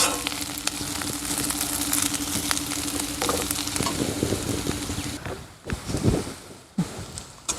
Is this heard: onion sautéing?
yes